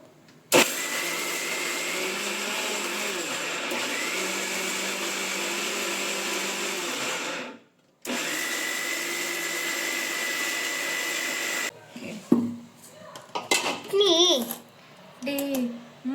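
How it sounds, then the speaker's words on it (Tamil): A mixer grinder churns rice and lentil batter for adai with a loud, steady whining motor drone. It runs for several seconds, cuts off briefly, then starts again and stops. Voices and a child's chatter follow in the kitchen. "நான் கொஞ்சம் கொஞ்சமாக அரைச்சி எடுத்துக்கிறேன்"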